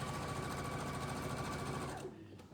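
A sewing machine stitches a quarter-inch seam while piecing a half-square triangle, running in a loud, steady, fast whir for about two seconds before it stops abruptly.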